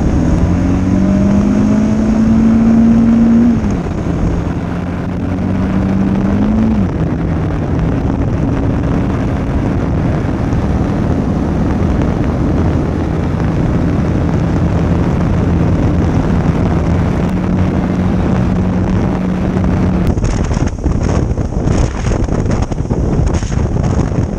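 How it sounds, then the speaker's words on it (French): A Kawasaki KLE 500 trail motorcycle on a test ride, its engine droning steadily with pitch rising and falling through gear changes, buried under loud, constant wind buffeting on the microphone. "On teste la moto"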